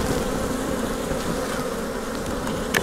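Honey bees swarm densely at an apiary hive, a continuous close buzzing drone filling the whole stretch without a break.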